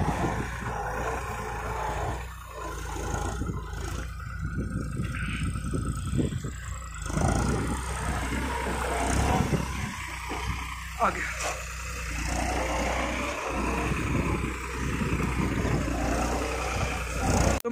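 A New Holland 3630 4x4 tractor with a reversible plough runs in medium first gear, its engine a steady low rumble throughout, with a voice talking over it.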